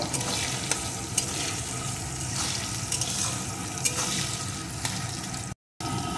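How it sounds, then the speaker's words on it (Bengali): Chopped onion frying in a pan for a village-style chicken curry, giving a continuous close sizzle broken by light, regular stirring taps, with a brief dropout near the end and no speech. "পেঁয়াজ কুচিটা একটু ভেজে নেব।"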